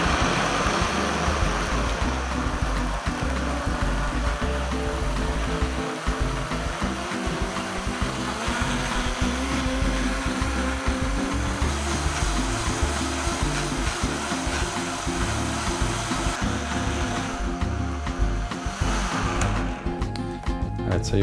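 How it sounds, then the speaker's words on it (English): A kitchen blender runs continuously at full power for a coleslaw dressing, a loud dense motor whir with a steady rattling churn that holds throughout and eases slightly toward the end. "you wanna blend that really good for a couple minutes"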